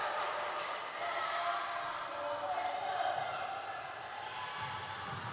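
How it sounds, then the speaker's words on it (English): Tonga supporters at an under-21 netball youth qualifier match cheer and shout in a continuous crowd roar that swells and dips, with a commentator's voice partly audible over it. "Tonga crowd, very vocal"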